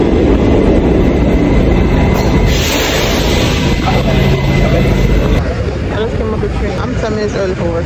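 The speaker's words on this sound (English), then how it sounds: "This is a Manhattan-bound A express train." A Manhattan-bound New York subway A express train rumbles along steadily and loudly, with rail noise filling the whole clip and a voice talking over it.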